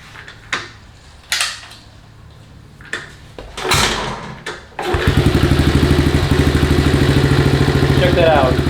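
Several short mechanical clunks and cranking attempts, then a cold 1974 Honda CT70 engine with a quiet exhaust catches and settles into a steady, loud idle.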